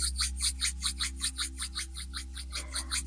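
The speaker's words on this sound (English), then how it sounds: "rubbing the hands" Palms rubbing briskly together during a yoga session, a close, steady back-and-forth swishing repeated about a dozen times in an even rhythm over a low constant hum.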